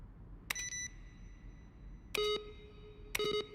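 A digital alarm-like beep from The Stanley Parable: Ultra Deluxe sounds three times, each a clean electronic tone lasting under half a second. The beeps are spaced irregularly over quiet background hum.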